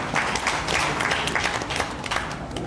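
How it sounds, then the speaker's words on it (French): An audience at a press conference applauds a comrade, a short, dense patter of many hands clapping at moderate volume, unbroken and without speech. "Applaudissez pour le camarade Ben Servo."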